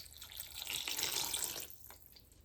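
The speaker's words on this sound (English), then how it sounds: "we're gonna add 1 cup of water" A cup of water is poured into a pot of peppers on the stove for hot sauce, a soft splashing gush that rises, then tapers into a few drips.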